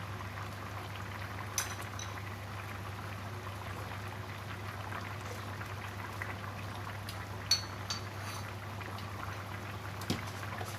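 Coconut milk simmering in a pot of chicken and pumpkin curry, a steady soft bubbling hiss with a low hum beneath and a few small pops, close and continuous.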